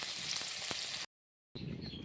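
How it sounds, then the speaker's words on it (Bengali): Mixed vegetables fry in hot oil in a kadai with salt and turmeric for khichuri, producing a loud, close, continuous sizzle that cuts to silence for a moment before the frying resumes. "এখন নুন হলુদ দিয়ে ভালোভাবে ভেজে নিব।"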